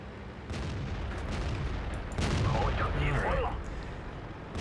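Tank cannon fire in World of Tanks: a booming gunshot with a broadband burst at about two seconds over a constant low battle rumble, some voice-like tonal sounds after it.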